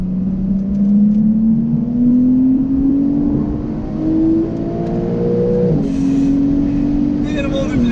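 A Porsche 911 (992) flat-six engine drones and climbs steadily in pitch, then drops sharply as it downshifts, with a few faint higher blips near the end.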